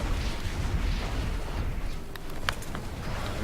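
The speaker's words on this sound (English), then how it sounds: "let the enemies chain into explosions and whatnot" Dense, rumbling explosions and bursts from enemies chaining into explosions in Risk of Rain 2 roll on continuously, with a few sharper high crackles near the end; loud and busy throughout.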